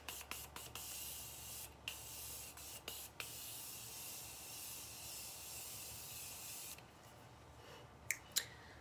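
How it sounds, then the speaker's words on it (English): A fine aerosol of matte makeup setting spray hisses steadily for several seconds, broken by a few sharp clicks of the nozzle, close and alone with no talking. "Let's do a little setting spray."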